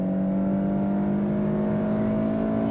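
A 2018 VW Polo GTI engine revving hard out through the gears on a fast track lap, a steady loud droning whine from inside the car, alone without talk.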